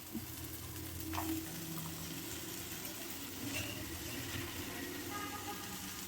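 Spinach leaves frying in hot oil in a pan while being stirred, with a steady low sizzle and occasional scraping of the spatula throughout.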